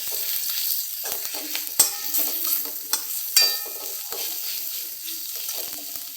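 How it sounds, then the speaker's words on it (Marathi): Green chilli, chopped garlic and coriander sautéing in a pan, a gentle sizzle broken by several sharp spatula scrapes and stirring clinks, close by with no voices. "हिरवी मिरची लसण बारीक केलं ते आणि ही कोथंबीर हे चांगलं परतून घेऊ"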